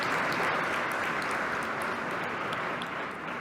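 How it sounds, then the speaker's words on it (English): A large audience at a State of the State speech in New York applauds the lieutenant governor, a dense, continuous roar of clapping that holds evenly throughout and eases slightly at the end. "Let's give him a round of applause"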